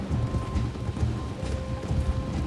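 Horse hooves clop in the western video game Red Dead Redemption 2, a steady rhythmic clip-clop of riders moving at a walk, close and moderately loud over a low ambient backdrop.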